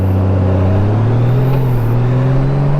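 A 2021 Honda Gold Wing DCT motorcycle's engine hums steadily up close as it is put into drive and begins to pull away, its pitch rising slightly under rumbling wind noise on a helmet microphone.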